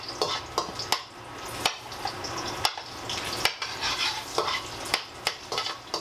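Garlic and onion sauté in a pan over medium heat for pork humba, with a bright sizzle broken by repeated scraping and clanking stirring strokes, close and lively.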